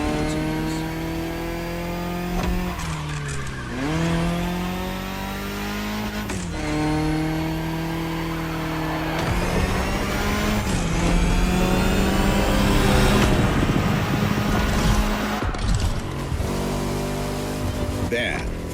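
A Ferrari 365 GTB4 racing in The Crew Motorfest, its engine revving and sweeping through repeated gear shifts and rises in pitch, with brief tyre squeal, loud and continuous under a commentator's talk.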